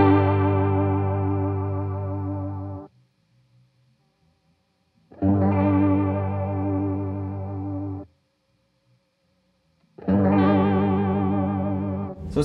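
Guitar through a chorus-style modulation pedal set to a wide waver, played as three sustained chords or notes, each ringing about three seconds with audible pitch wobble, separated by near-silent gaps, fairly loud and close.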